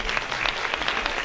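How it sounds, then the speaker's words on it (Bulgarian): An audience at a gala concert applauding performers, steady dense clapping throughout, loud and close, with no voices over it. "Я попрошу вас поаплодировать им,"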